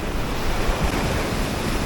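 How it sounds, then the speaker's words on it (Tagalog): Ocean waves break in a continuous rolling surge at a shoreline fishing camp, loud and close, with wind buffeting the microphone and no voices. "Sunod-sunod yung alon."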